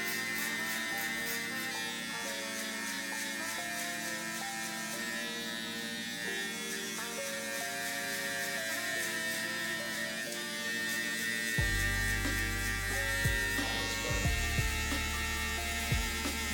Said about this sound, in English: So now we're just setting in the guideline with the clipper all the way closed